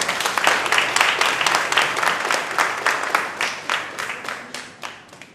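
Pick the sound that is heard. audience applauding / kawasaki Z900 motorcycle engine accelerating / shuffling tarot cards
audience applauding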